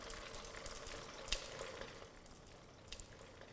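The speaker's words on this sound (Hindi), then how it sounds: "अभी करेंगे इसकी फ्राइंग। देखिए हमेशा थोड़ा लें और उसको फ्राई कर लें" Vada batter made with rava and leftover rice crackles and sizzles steadily in hot oil, with a few sharper pops over the soft continuous frying hiss; no talking.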